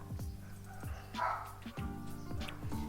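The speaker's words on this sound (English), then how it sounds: "my dog, sorry about that" A dog barks in a quick run of yips and bow-wows close by, several sharp barks spread across the stretch with a brief whimpering tone between, indoors with no talk.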